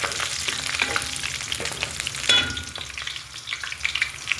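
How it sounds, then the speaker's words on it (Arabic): Sliced sweet bell pepper sautéing in a hot pan with oil, a dense close sizzle and crackle with occasional spatula scrapes, heard alone without talk. "قرن فلفل حلو كده يتشوح معانا"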